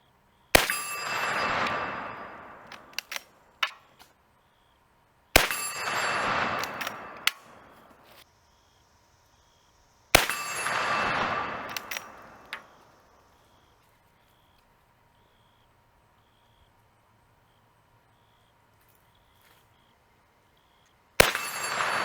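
Three loud gunshots from a .44 Magnum rifle firing Montana Bullet Works 260 grain loads, each a sharp crack with a long ringing tail and some handling clatter between shots, followed by a long quiet stretch and a fourth shot at the end.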